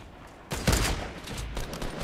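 Rapid gunfire bursts in the Fortnite Battle Royale video game, loud and dense, coming as a sudden volley that continues through the moment.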